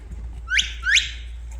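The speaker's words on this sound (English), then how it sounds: "So we go over to what we call the whistle." Two sharp rising whistle blasts, each quick and piercing, from a shepherd signalling a sheepdog at a family farm in Galway, Ireland, over a low outdoor hum.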